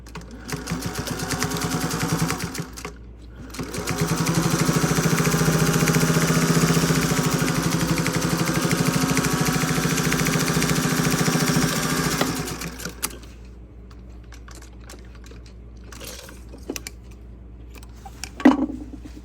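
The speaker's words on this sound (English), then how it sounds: "I'm going to do a 1/4 of an inch seam beside this one" An old Singer 201 sewing machine stitches a quarter-inch quilt seam in a short burst, pauses briefly, then runs in a long, steady, rapid whir. It stops, leaving quiet broken by a few small clicks and handling sounds.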